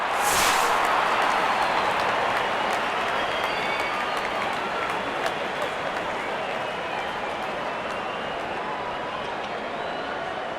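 A crowd applauds in a cricket video game, a dense, steady wash of clapping and cheering that starts with a sharp burst and holds loudly throughout the clip.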